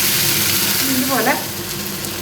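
Fish sizzling as it fries in a pan, a dense, steady crackling hiss throughout, with a brief vocal sound partway through.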